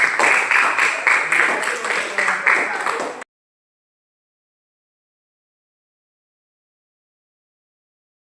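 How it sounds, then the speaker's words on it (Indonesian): An audience at a school teachers' recognition event claps together in steady, dense applause that lasts about three seconds and then cuts off abruptly into silence. "Apresiasi tepuk tangan kepada teman-teman yang hadir."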